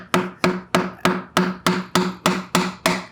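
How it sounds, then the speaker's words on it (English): Ten sharp, evenly spaced hammer blows driving ABS pipes into a fitting, close and loud, each striking with a quick ringing decay in a steady rhythm. "you're going to hammer down all the way through that fitting"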